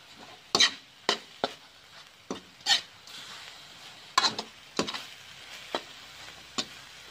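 Frog green curry is dry-roasted in a pan, heard as a run of sharp scraping stirs and clacks of a utensil against the pan at an uneven pace over a faint sizzle, close and with no voice.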